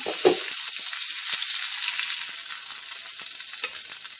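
Chorizo sausage frying in a pan produces a loud, dense, continuous hiss of sizzling fat, close up, with a few faint clicks and pops scattered through.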